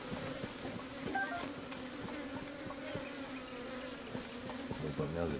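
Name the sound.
buzzing bees in video game Tears of the Kingdom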